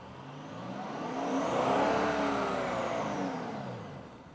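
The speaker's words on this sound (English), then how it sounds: "you guys hear what a V8 with 420 horsepower sounds like" A 2016 Kia K900 luxury sedan's 420-horsepower V8 revs up and back down in one smooth rise and fall, moderately loud and heard alone without talk.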